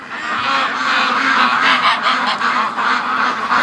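Many free-range ducks call at once nearby at feeding time, a busy stream of honking quacks that overlap without pause.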